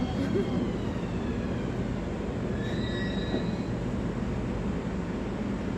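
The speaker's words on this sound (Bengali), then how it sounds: "এই ট্রেনটা আগে বেরোবে, তারপরে ওটা আসবে।" A metro train rumbles steadily through a station in Riyadh, its wheels letting out thin, high squeals above the constant low roar.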